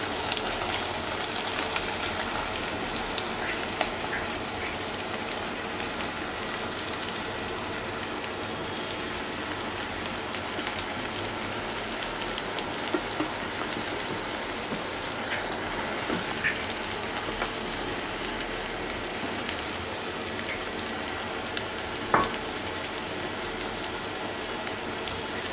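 Chopped onion, garlic and chili hit hot mustard oil in a wok, giving a steady, even hiss of frying that holds at a moderate level, with one brief sharper crackle near the end.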